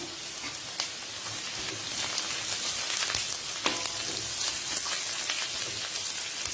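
Lemongrass frying in hot oil for a spicy prawn sambal: a loud, dense, rain-like crackle that holds steady throughout, with a few small pops and light stirring beneath it.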